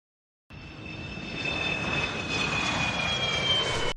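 A helicopter approaches after a brief silence, its steady engine drone and whine swelling gradually louder as it draws nearer, with no one speaking.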